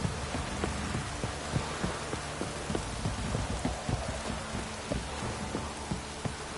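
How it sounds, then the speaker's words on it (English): Rain pours down steadily, with scattered heavier drops tapping on a surface beneath the constant hiss. "Pure downpour, this is."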